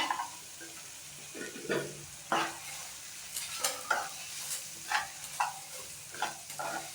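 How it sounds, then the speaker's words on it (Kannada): Chavalikayi (cluster beans) tossed with fried onions in a pan, stirred in a series of irregular scraping strokes and clinks over a soft background sizzle, fairly quiet and close, with no speech. "ಚೌಳಿಕಾಯಿನೆಲ್ಲ ಅದು ಬಾಡಿಸ್ಕೊಂಡಿರೋ ಈರುಳ್ಳಿ ಆನಿಯನ್ಗೆಲ್ಲ ಹಾಕಿ ಮಿಕ್ಸ್ ಮಾಡ್ಕೋಬೇಕು."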